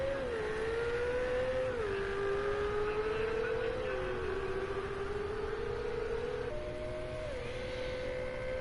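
A Ferrari race car engine in Project Cars 2 runs steadily around Monza on a qualifying lap, holding a constant loud drone that steps up and down through gear shifts, with no talk.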